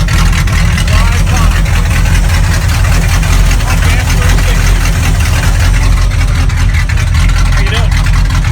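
A stripped-down 4x4 Pro Stock pulling truck with a pump-gas 360 engine runs at an Ocala pulling event, a loud, steady, rumbling drone heard up close with continuous roar and voices mixed in beneath it.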